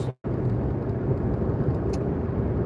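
Car cabin rumble while driving down a road, a steady low engine and tire drone heard from inside, continuous after a brief cut at the start.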